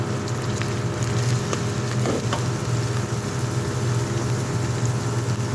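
Onions and green chillies fry in hot oil in a pan, giving an even crackling sizzle throughout with a few soft clicks of stirring, close and unbroken by talk.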